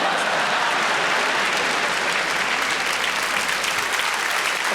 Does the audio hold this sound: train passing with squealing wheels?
no